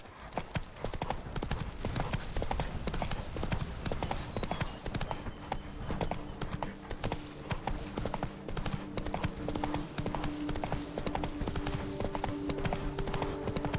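Horse hooves clip-clopping at a steady trot in The Witcher 3: Wild Hunt, a continuous rhythmic clatter under game sounds, with a faint whinny and occasional voices.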